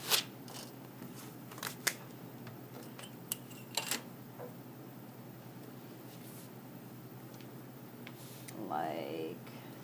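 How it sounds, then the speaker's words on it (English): Scissors snip through duct tape while a wallet is being made, giving a few sharp, quick cuts near the start and a longer crinkling tear of tape toward the end, under a low steady background hum. "I'm going to cut this down the center again"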